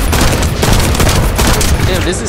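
Rapid gunfire in the shooter video game The First Descendant, a loud continuous barrage of overlapping shots and booms filling the whole stretch without pause.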